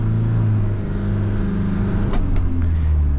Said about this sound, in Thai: ต่อเกียร์สามเกียร์สามไม่เข้า เฮ้ยลงหนึ่งไหม